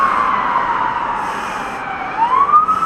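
A police car siren wails in a long, sliding tone that falls and then rises again, loud and close over steady traffic rumble.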